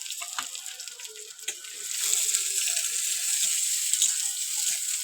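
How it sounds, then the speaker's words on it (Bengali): Chopped onion sizzles in hot oil. A few soft clicks and knocks come first, then a steady bright frying hiss rises and holds, close and without talk. "এবার আমি পেঁয়াজ কুচি দিয়ে দেবো"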